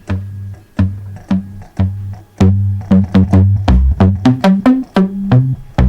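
A punchy Moog Voyager synthesizer preset plays a bouncy bass-heavy phrase of short, plucky notes that speeds into a quicker run, loud and close with no voices.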